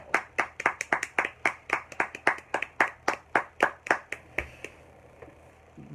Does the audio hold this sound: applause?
yes